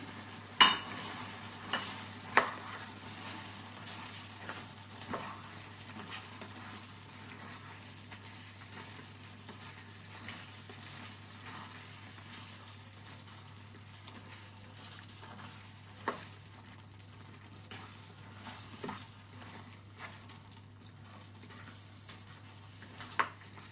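Beef stir-fried with mushrooms and snow peas in a pan: a faint, steady sizzle under scattered scraping and tapping of a utensil against the pan, with a low hum throughout.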